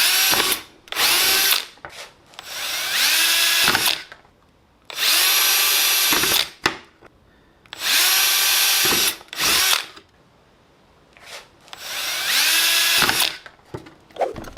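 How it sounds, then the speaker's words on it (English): A power drill whirs in four separate bursts of a few seconds each, drilling holes in a plastic tray, spinning up and winding down with short quiet gaps between, close and loud. "Using the provided smaller drill bit, drill 5 holes on the marked locations of the tray."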